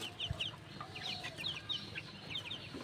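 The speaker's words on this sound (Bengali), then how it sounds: "আপনারা দেখছেন এখানে আমার ফার্মে মোরগ রয়েছে" Farm chickens and roosters cluck in short, repeated bursts at moderate distance over a low background hum, with no one speaking.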